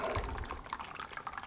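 Coconut water fills a glass with a soft, continuous trickling and gurgling, faint and close, with no talk over it.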